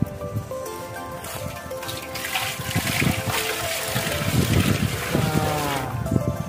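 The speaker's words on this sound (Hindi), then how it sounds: "पानी डालो।" Water pours into a pot over an outdoor cooking fire in a jungle setting, a steady splashing trickle that grows fuller and louder over several seconds, close to the listener.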